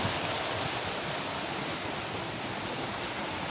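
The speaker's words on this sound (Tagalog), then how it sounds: "Ito yung ilog. Ito yung pinakababa." River water flows near a waterfall in Cavite, a dense, steady rushing hiss that fills the scene evenly without breaks or voices.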